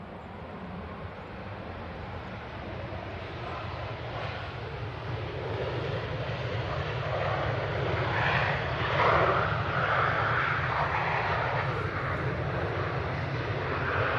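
A jet airliner makes a firm landing at Manchester Airport, its engine roar building steadily and loud from a distance and peaking near the middle before it holds in a broad, rushing drone with wind noise and no talk.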